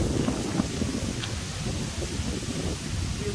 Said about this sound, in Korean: 이 바람 소리만 봐도 알겠다.